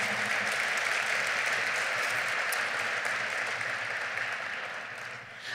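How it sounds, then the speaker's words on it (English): A school community gathering breaks into a full round of applause, broad and steady clapping from a large audience that holds strong before thinning slightly near the end. "Yes, let's give them a round of applause."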